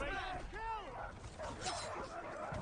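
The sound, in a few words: war dogs barking in the video game Conqueror's Blade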